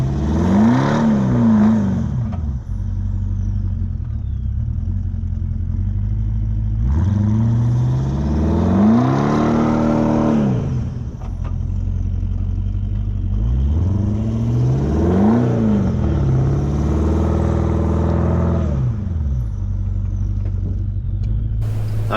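A Toyota Land Cruiser LC200 works its engine in soft flat sand, the drone rising and falling in three long surges of revving as it ploughs forward, loud and steady with wind and road noise beneath.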